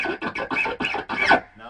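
An electric guitar is played through a wah pedal while its toggle switch is flicked on and off, chopping the tone into a rapid stuttering series of short bursts and gaps.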